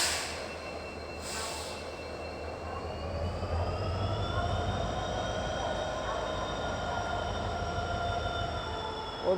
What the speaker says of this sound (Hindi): और पुणे जंक्शन से कोई तो ट्रेन डिपार्ट कर रही है।